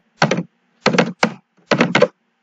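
Four short bursts of typing on a computer keyboard while entering a command in a Windows Run box, each a quick cluster of close, crisp key clicks separated by brief pauses.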